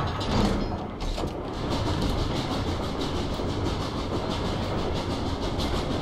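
Moving train in The Escapists 2, a steady rumbling rail-car bed with faint rhythmic clacking and creaking, continuous and fairly loud with no voices.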